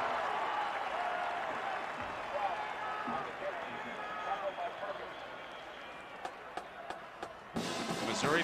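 A 1997 Nebraska versus Missouri college football stadium crowd, a broad, distant roar that swells and holds, with a few sharper knocks near the end and a commentator talking over it.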